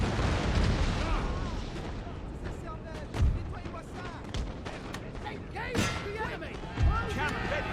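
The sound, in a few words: musket and artillery fire in Napoleon: Total War video game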